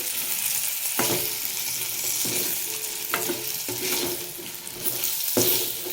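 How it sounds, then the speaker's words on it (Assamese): Boiled potatoes fry in oil in a kadai wok for a meat curry, giving a steady close sizzle broken by a handful of sharp spatula knocks and scrapes against the metal. "মাংসৰ কাৰণে বইল আলুখিনি মই অন্য এটা কেৰাহীত এক্সট্ৰাকৈ ফ্ৰাই কৰি ল'লোঁ"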